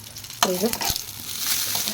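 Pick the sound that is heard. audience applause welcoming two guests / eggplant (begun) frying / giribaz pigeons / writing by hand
eggplant (begun) frying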